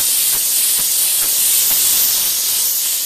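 Engine degreaser sprays from an aerosol can onto a car engine in a continuous close, loud hiss, with faint rhythmic pulses through the steady spray.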